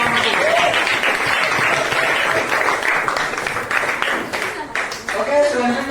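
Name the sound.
applause for a student group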